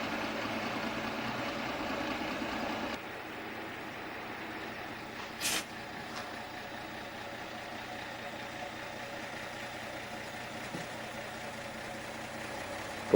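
A truck engine idling in a vandalised hospital compound on Bougainville, a low steady rumble in the background with a brief hiss partway through.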